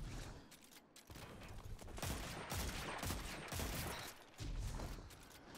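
Gunfire in a shooter video game, heard as dense bursts of rapid shots with short gaps between volleys, loud and close.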